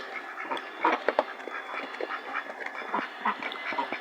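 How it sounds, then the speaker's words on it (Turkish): Domestic ducks in a yard in Adana, quacking repeatedly in short overlapping calls from several birds at close to middle distance, with no talking. "Yuvayı yaptım ördeklerime."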